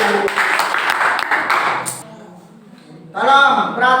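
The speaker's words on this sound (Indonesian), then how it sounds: "Tepuk tangan buat nomor 1" Classroom applause for the first presenter, a brief burst of clapping with voices mixed in that fades out, followed by someone starting to speak.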